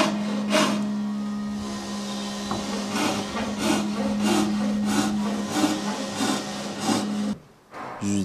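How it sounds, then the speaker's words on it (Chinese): A handsaw cutting a wooden floorboard to fit around a post in a rural timber house, rhythmic rasping strokes over a steady hum, ending abruptly near the close. "这块板子全部都要锯成这个样子，因为它是紧挨着立柱的位置，多余的地方全部都要锯走。"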